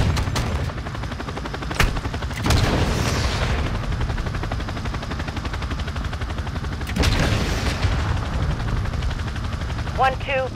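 Gunfire and explosions in a Call of Duty: Modern Warfare II match come as several loud, broad bursts spread across the stretch, with a steady noisy battle bed running between them.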